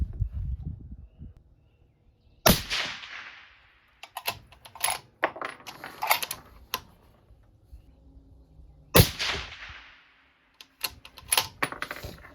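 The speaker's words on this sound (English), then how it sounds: "I'm gonna shoot a couple more here." Rifle firing Barnes VOR-TX Long Range factory ammunition, two sharp loud reports several seconds apart, each trailing into a fading echo, with metallic clicks and clatter of bolt handling between them.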